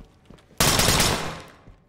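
A single sharp, loud gunshot from a selective-fire weapon switched to full auto in the tactical shooter Ready or Not, followed by a short decaying tail and faint ambient sound before and after.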